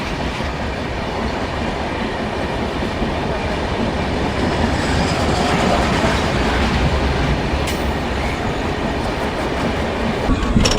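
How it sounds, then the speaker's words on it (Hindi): A coal-laden freight train rolls past near Yamunanagar Jagadhri, its loud, steady rumble and wheel clatter filling the air without a break, with a faint squeal rising briefly near the end. "ये भी मालगाड़ी है, कोयला लेके जा रही है।"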